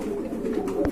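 Caged pigeons cooing, a short low rounded coo repeating close by with a steady soft hum beneath, no voices.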